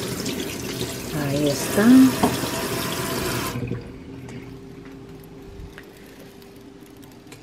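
Tap water runs over eggs in a kitchen sink, a steady close splashing rush that stops abruptly halfway, leaving quiet room tone, with someone speaking briefly in Spanish.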